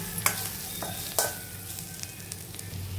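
Chili powder frying in a pan with ginger-garlic paste and turmeric for Sarikanda curry: a steady, fairly quiet sizzle broken by a few sharp scrapes and taps of stirring, heard alone without talk.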